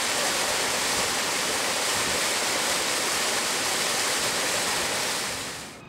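The River Boyd near Dyrham, near Bristol and Bath, rushes steadily in a dense, loud, even hiss of flowing water that fades out at the very end, with no voices.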